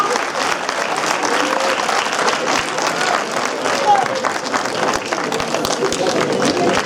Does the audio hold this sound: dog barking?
no